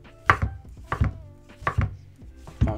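Four close knife chops through mushrooms on a cutting board, spaced about half a second apart, with a soft thud and crisp slice on each stroke.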